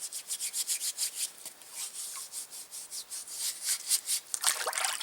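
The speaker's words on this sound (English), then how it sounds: "You can use the same thing on a wooden spoon. Just come out here, put some sand on it." A wooden spoon is scrubbed with sand outdoors, giving steady rhythmic gritty rasping strokes, close and fairly loud, with a brief wetter scratchy burst near the end.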